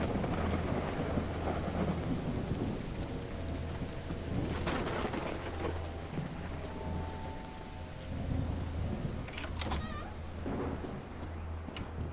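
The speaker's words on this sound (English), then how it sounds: "it's raining cats and dogs here?" Rain falls steadily in the PC game Call of the Elder Gods, with low rolling thunder rumbling under the downpour and a few sharper crackles near the end.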